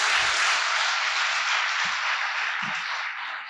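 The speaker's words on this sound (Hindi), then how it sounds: "तालियां आपकी जोरदार।" Hall audience at an Olympiad awards ceremony breaks into loud, sustained applause, a thick continuous clapping that gradually tapers toward the end, with a few low thumps beneath.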